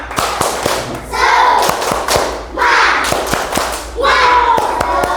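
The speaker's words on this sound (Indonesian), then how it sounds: "Nah, tepuk semangat dulu. 1, 2, 3. Tepuk semangat." A group of children in a classroom doing a rhythmic Indonesian spirit clap, bursts of claps and thumps in three waves with chanting voices between, close and loud.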